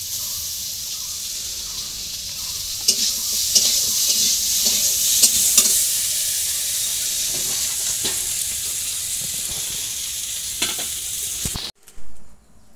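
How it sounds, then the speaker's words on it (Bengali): Cumin and ginger paste sizzles loudly with fried potatoes in a pan in a village kitchen, a steady bright hiss with scattered spoon scrapes and clicks, cutting off abruptly near the end. "আলুটা বেড়ে ভাজা হয়ে গেছে, তাই একটু জিরে আর একটু আদা বেটে নিয়েছিলাম, তাই এর মধ্যে দিয়ে দেবো।"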